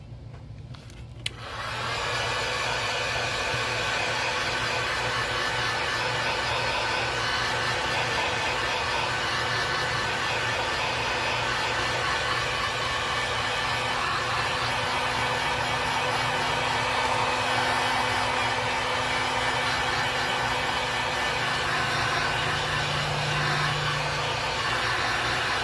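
A blower heat-sets the paint on a painted fishing lure, painted as a red-breasted sunfish. It starts after a second and keeps up a steady, loud whooshing hum, close by, with no talking.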